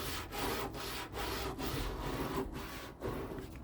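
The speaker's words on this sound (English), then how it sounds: "take my wet scrub brush and I am just going to scrub all the extra off" A wet scrub brush scrubs softened chemical stripper off a wooden dresser in steady back-and-forth strokes, a close, continuous rasping rhythm with no talk.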